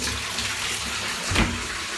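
A water tap running steadily to heat the water in a home bathroom, a close, continuous rushing hiss with a brief surge near the end.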